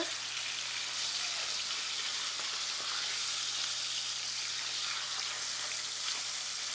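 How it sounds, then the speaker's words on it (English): Food fries in hot oil in a pan with a steady, close hiss and crackle, with no talking over it. "My heat is hot, the oil's hot, and you can hear it, right?"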